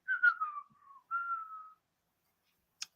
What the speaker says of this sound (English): So I hear you whistling in the background